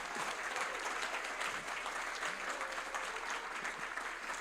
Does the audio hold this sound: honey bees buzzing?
no